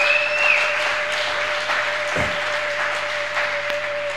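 Congregation clapping during a church service, a steady dense wash of applause lasting throughout, with a sustained tone running beneath it.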